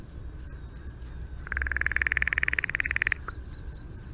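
A crow gives a rattle call up close: a rapid, even string of dry clicking pulses lasting about a second and a half, followed by a single short note, over quiet outdoor background.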